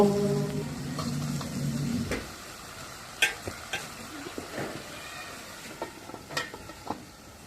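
Pui flowers (Malabar spinach blossoms) cook with vegetables in a pan, with a soft sizzle under intermittent clicking and scraping as a utensil stirs and mixes them, and a faint hum in the first two seconds.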